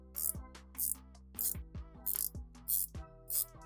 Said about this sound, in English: if you can listen, it's got a very nice sound to the bezel